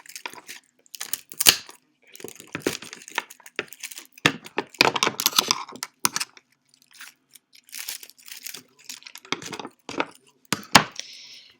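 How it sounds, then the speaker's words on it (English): Secateurs snipping and crunching through a dry pine cone for an autumn wreath, a string of sharp, woody crackles and clicks in irregular bursts, close up with no talking. "And you'll need some secateurs or some scissors, whichever works best for you. And you just want to cut a section of the pine cone off."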